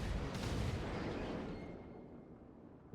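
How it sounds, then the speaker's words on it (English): A battleship main gun salvo in World of Warships fires from a North Carolina as one heavy, rolling boom that fills the low end and then slowly decays over a few seconds. "there is a low health Mogami who might get finished off with this salvo"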